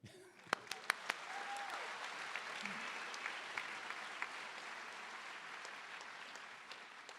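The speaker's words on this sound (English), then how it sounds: "we'd like to take a minute and applaud this impressive accomplishment" A graduation audience for the Class of 2017 at Cab Calloway School of the Arts claps in a steady, dense wash of applause that holds for several seconds at moderate distance, with a few sharper claps standing out.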